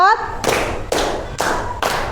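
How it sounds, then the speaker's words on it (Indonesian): Four loud, evenly spaced bursts of hands clapping in a counted rhythm, led by an Indonesian teacher addressing children, each clap sharp and close. "Tepuk 1, tepuk 2, tepuk 3, tepuk 4"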